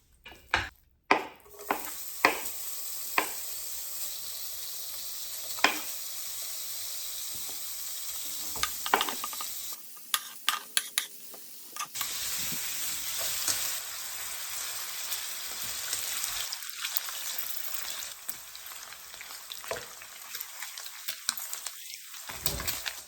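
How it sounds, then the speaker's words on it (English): Bacon fries in a pan, a continuous soft sizzle with occasional clinks and stirring scrapes of utensils and cookware, alone and without talk. "we are going to fry up this bacon right here"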